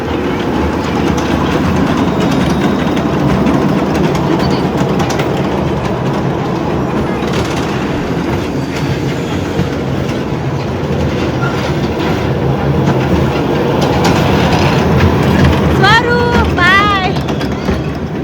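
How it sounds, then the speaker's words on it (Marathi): Inside a moving passenger train, a constant rumble and rattle of wheels on rails fills the whole stretch, with people talking over it and a few brief high chirps near the end. "सरू परत एकदा बसला बघा ट्रेन मध्ये."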